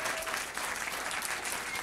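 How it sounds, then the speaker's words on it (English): Audience at an annual dinner breaks into steady applause for a regional partner award honoree, a dense wash of clapping sustained at even loudness with no speech over it. "clap for him"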